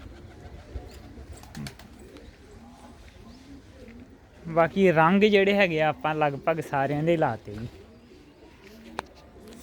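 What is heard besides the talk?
pigeons cooing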